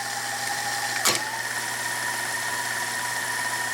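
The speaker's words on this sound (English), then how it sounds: "If I go to rewind, and if I go to fast forward," A Sony SL5200 Betamax VCR that sat untouched for over 30 years, fast-forwarding a tape: a steady close mechanical whir and hum, with one brief click near the start.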